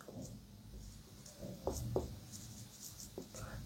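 Quiet scratching of a pen writing by hand on paper, close and soft, with a few sharper strokes scattered through.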